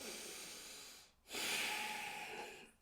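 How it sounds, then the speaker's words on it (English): A person takes a slow breath, a faint airy exhale, a short pause, then a deeper drawn-in breath with a soft hiss, heard close and alone. "take a breath. Breathing is key."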